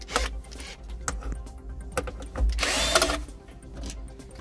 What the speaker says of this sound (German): Des Weiteren lösen wir hier vorne dann zwei Schrauben.